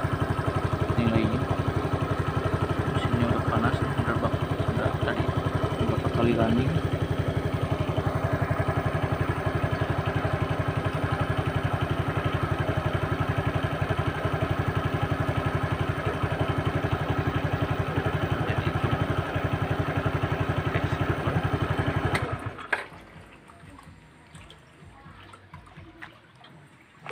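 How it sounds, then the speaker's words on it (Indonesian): A warm, fuel-injected motorcycle engine with an O2 sensor manipulator idles at a low, steady, even hum. The sound stays close and constant for a long stretch, then cuts off abruptly near the end, leaving faint background noise. "Mesinnya udah panas, langsamnya hidup proses rendah nilai."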